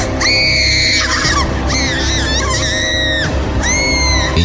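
Several shrill, high-pitched screams rise and fall in repeated bursts over a dense, loud background, part of a dramatized Hindi horror story.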